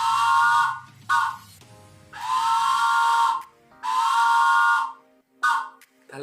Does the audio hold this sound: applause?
no